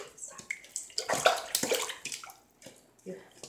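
Running water rinsing soap off a pet in a sink: an uneven splashing, gushing flow with brief pauses, close and fairly loud.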